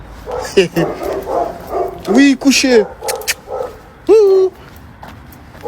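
Several dogs bark and whimper around a person's voice, with yelps and rising whines in short bursts, fairly close, mixed with ongoing talk at a ski outing.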